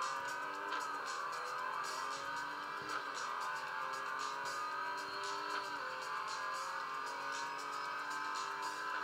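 Racing car engines from a mobile racing video game on an Acer Iconia Tab 10 tablet, a continuous high droning whine with shifting pitch and faint squeals, steady and moderately loud, no talking.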